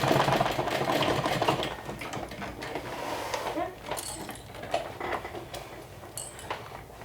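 A sewing machine stitches a Cinderelly saddle bag in rapid mechanical bursts, loud at first, then broken into shorter runs with brief pauses and clicks, close to the microphone with no clear talking.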